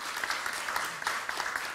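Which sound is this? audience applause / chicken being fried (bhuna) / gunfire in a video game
audience applause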